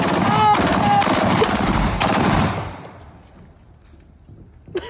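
Rapid bursts of AR-15 rifle gunfire crack loudly for over two seconds, then give way to a quieter tail with a faint late pop.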